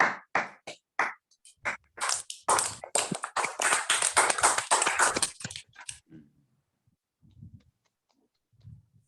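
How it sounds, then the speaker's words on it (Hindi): Participants in an online Jain seminar clap through unmuted microphones: dense, ragged bursts of many hands overlap for about six seconds, then cut off, leaving only faint scattered noise. "अनम्यूट करके जोरदार तालियां बजाएं"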